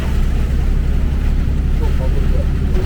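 Loud, dense drumming of heavy rain on a semi-truck at night, with a deep engine rumble underneath, constant and close.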